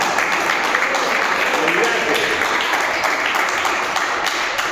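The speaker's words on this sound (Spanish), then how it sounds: "dale un aplauso al que te llamó, al que te está preparando y al que te va a mirar" Applause from a church congregation fills the space, a steady dense wash of clapping heard up close and loud throughout, with voices mixed in underneath.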